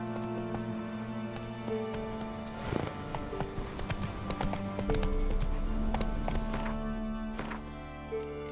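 A horse gallops in The Witcher 3 video game, with steady rhythmic hoofbeats over a low music bed, growing fuller and louder midway through.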